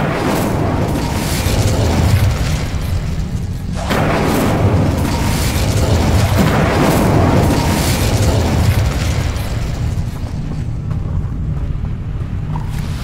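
Incendio fire spell cast in the Hogwarts Legacy video game, a loud roaring whoosh of flame with booming bursts that rolls on steadily, with no voices over it.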